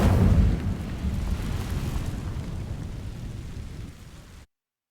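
An Incendio fire spell in Hogwarts Legacy ignites dry vines with a loud low whoosh that settles into a steady crackling rumble for several seconds before cutting off abruptly.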